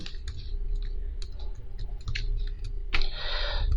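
A computer keyboard clicks crisply at close range, with several light key presses and one firmer Enter strike near the end, against a steady low background hum.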